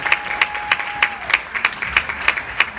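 An audience at a talk claps in a sparse, evenly paced rhythm, with distinct sharp claps roughly every third of a second under a faint steady tone.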